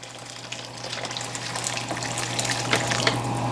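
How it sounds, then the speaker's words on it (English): Water pours steadily into a pot of jollof rice, a continuous splashing gush that grows slightly louder as it fills, alongside a low steady hum. "And at this point, we'll add our water."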